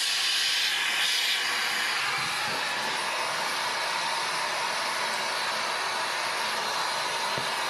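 A gas torch burns a fuel-rich flame for melting sterling silver, giving a loud, steady, close roaring hiss that continues unbroken from start to finish.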